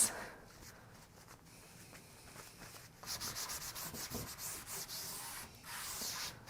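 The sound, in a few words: wiping excess furniture wax off with lint-free cloth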